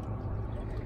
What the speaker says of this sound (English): A little bit of a jet ski wake